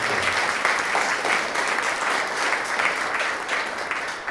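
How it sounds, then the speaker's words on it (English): Loud, continuous applause from a large audience at a Yom HaShoah concert, dense clapping that holds steady the whole time. "So if we could give them a round of applause."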